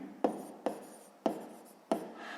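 A pen moves across paper in four short, quiet, separate strokes spaced roughly half a second apart, close by and on its own.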